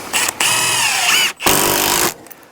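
A power drill with a stubby Diablo bit drives screws in two sustained whirring bursts, loud and close, with a brief pause between them, during chicken homestead building work.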